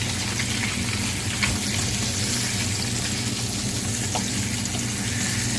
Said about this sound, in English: Perfectly pan-fried fish